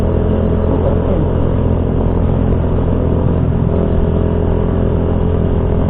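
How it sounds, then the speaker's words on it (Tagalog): A motorcycle engine drones steadily while riding, with a constant low rumble and wind-like roar filling the whole stretch, no talking. "Ingay talaga itong motor"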